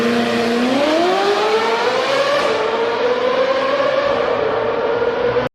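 Loud, close exhaust note from a Ferrari 458 V8 on straight pipes, a sustained roar that climbs in pitch as it revs, then holds high and steady before cutting off abruptly.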